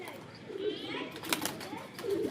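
Domestic pigeons coo on a rooftop, with low soft coos heard now and then, a faint flutter and a little background noise.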